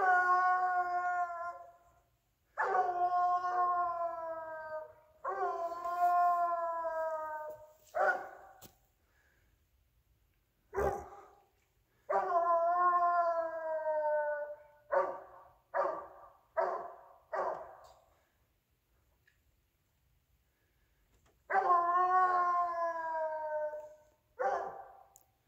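Hunting dog baying while tracking a raccoon, long drawn-out howling bays in bursts, some broken into short choppy barks, with quiet pauses between, moderately near.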